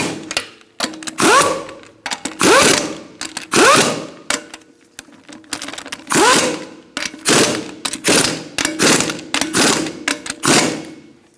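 Lug nuts on a Honda CR-V wheel are snugged with a ratchet: close, loud bursts of rapid clicking repeat in a steady rhythm, each run lasting about a second with short pauses between.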